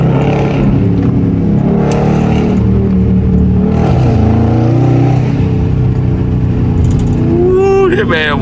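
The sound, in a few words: Dodge Scat Pack engine revving as gas is tapped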